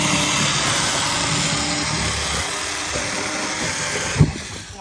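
A powered cutting tool slicing through cardboard boxes from a recycling bin gives a loud, steady motor drone throughout, ending with a brief thump before the sound trails off.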